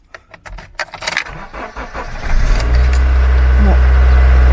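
On a frosty morning, keys jingle and rattle in a few quick bursts. Then a car engine cranks and catches on the first try, settling into a loud, steady idle rumble.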